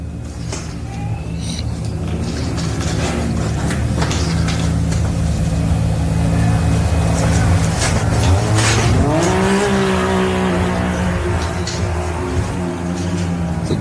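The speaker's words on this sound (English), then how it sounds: "another good job from one of our side-by-side competitors this morning of Jack Livingston" A side-by-side off-road race vehicle at the Loveday 400 in the Loveday 4x4 Adventure Park launches off the start line. Its engine drones steadily, then revs sharply upward near the end, loud and close, with faint talk in the background.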